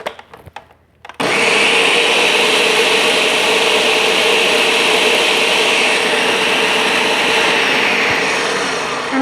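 A single-serving Ninja blender whirs loudly and steadily for about eight seconds, starting abruptly after a brief quiet moment with a few clicks, blending avocado lime crema.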